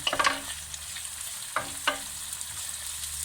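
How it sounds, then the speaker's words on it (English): Onion, chili and garlic fry in a pan for a breyani, a steady sizzle under sharp scraping stirs at the start and two more clear strokes later, with no talking. "add the chili and the garlic. Give it a stir."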